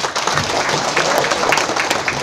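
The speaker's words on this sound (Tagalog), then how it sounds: "Ngayon palakpak para kay Mr. and Mrs. Alvarez." Applause from an office gathering, with dense, continuous clapping at steady loudness for the full two seconds and no voices on top.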